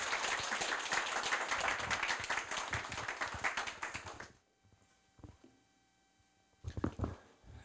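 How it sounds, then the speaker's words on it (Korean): An audience at a Korea University retirement lecture claps to welcome a professor, a dense burst of many hands that fades out after about four seconds and leaves near silence broken by a few faint taps and a brief later rustle. "박수로 환영해 주시기 바랍니다."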